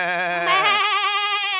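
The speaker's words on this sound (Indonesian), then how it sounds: "Di peternakan itu ada kambing," A goat on a farm gives one long, wavering bleat, close and loud, its tone shifting partway through and holding steady to the end.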